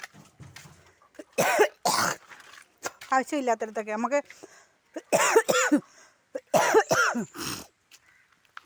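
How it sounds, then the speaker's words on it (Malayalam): Several harsh coughs break out between stretches of talk, each a short rough burst, close to the listener. "എനിക്കങ്ങ് ചുമയാണ് കേട്ടോ ചുമ"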